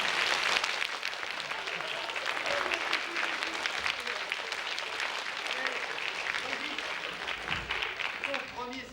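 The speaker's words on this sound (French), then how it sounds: "Dépêchez-vous d'applaudir sur la fin." A crowd at a children's street show festival applauds, steady moderate clapping throughout with voices mixed in.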